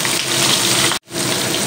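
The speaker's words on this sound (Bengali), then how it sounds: "তো আমি একটু কড়া করে ভেজে নেব" Pabda fish sizzle crisply in hot oil in a home kitchen, a loud, dense, steady hiss that cuts out for an instant before resuming.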